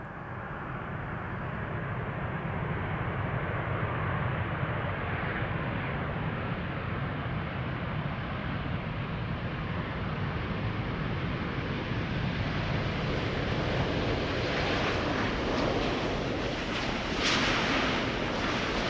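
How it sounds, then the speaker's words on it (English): An Airbus A350-900 airliner, a two-year-old Spanish-registered jet, arriving with a steady, broad engine roar that holds throughout and swells louder near the end, with wind rumbling over the microphone. "A350-900, the ECNTB is its registration."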